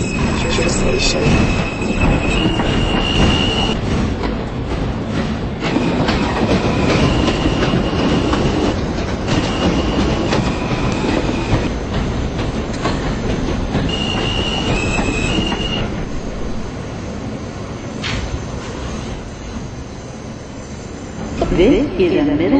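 An R160 M local subway train in Roblox, bound for Middle Village-Metropolitan Avenue, rumbles steadily along the tracks, with clattering wheels and high metallic squeals that come and go.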